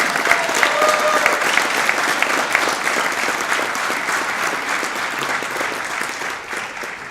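An audience applauds the guests of honour, brothers Gaëtan and Gérald Verville, at a Canadian Fighter event; steady, dense clapping from a sizable crowd carries on without a break and thins slightly toward the end.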